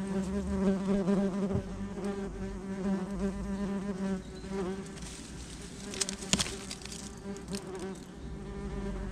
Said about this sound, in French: même si c'est un tout petit insecte, plus petit que le frelon, environ 2-3 cm la guêpe